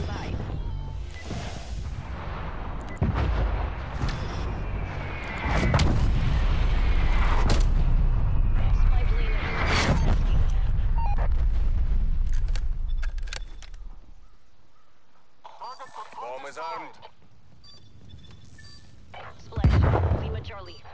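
Artillery fire booms in a video game, a run of heavy blasts and rumbling impacts that swell loud in the middle and then thin out, with a radio-style voice speaking over parts of it.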